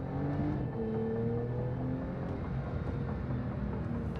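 Porsche 992 Carrera GTS engine running steadily, a smooth continuous hum with slight rises in pitch, close and fairly loud, alone without talk.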